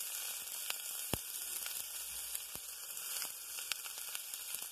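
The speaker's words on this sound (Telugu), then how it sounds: "ఇవన్నీ ఫ్రై అవ్వాలి." Green chilli, ginger and carrot pieces fry in hot oil for a moong dal khichdi, giving a steady, fairly faint sizzle with scattered sharp crackles and pops, no voices over it.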